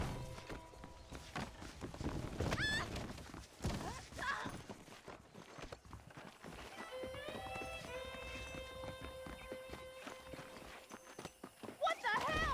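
Horse hooves clip-clop in Red Dead Redemption, a run of hoof beats at moderate distance mixed with game music and other effects, while a voice speaks partway through.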